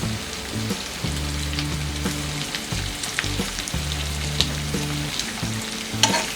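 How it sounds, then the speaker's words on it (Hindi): Capsicum and sweet corn with salt frying on low flame in a pan for white sauce pasta, a steady close sizzle with repeated scraping stirs of a spoon against the pan, no voices. "मिक्स कर देते हैं और इसे लो फ्लेम में फ्राई करेंगे।"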